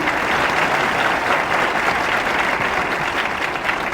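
An audience applauds the chief minister of Uttar Pradesh at a public event, with dense, steady clapping that stays loud and even throughout without a break.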